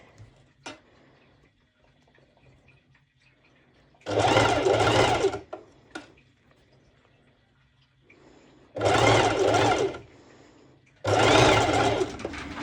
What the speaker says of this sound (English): I'm stitching as close as I can to the edge